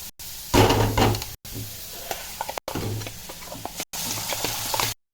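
Ground masala sizzling and frying in hot oil for prawn curry, a steady crackle broken into several segments, with occasional knocks and stirring clatter close by.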